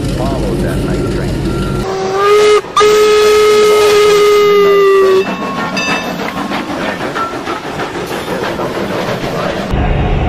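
A loud steam whistle sounds for several seconds as a train rumbles past with rhythmic clacking wheels, the rolling noise continuing after the whistle stops.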